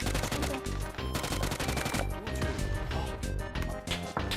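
Rapid gunfire bursts from a shooting video game, loud and dense, layered over game music and effects with repeated sharp transients throughout.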